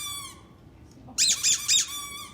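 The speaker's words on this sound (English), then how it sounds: "A squeaky toy is a dying animal." A squeaky dog toy is squeezed three times in quick succession during dog training, giving close, sharp, bright squeaks after a short whine-like tone and quiet room noise.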